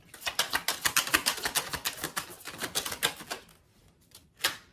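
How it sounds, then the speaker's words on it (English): Rapid, crisp clicking and riffling of tarot cards shuffled close by in quick bursts, pausing briefly before a final snap. "So as I'm shuffling"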